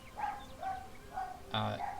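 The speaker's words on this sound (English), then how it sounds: "sorry for the barking by the way" A small dog barks in short yips four times at a steady pace, somewhat distant and faint against a low background hum.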